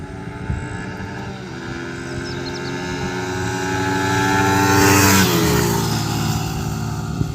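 Yamaha MT15 and Suzuki Gixxer motorcycles drag racing, a steady engine drone that swells as the bikes close in near the five-second mark, then fades slightly, with no talk.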